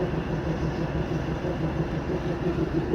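A train at a railway station, heard as a loud, continuous low rumble with a rhythmic mechanical hum and no breaks, close by and filling the whole stretch.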